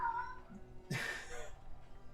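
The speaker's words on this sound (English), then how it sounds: "the cat's going nuts over there" A cat meows once, loud and drawn out, fairly close by in a room, standing alone over a low steady background hum.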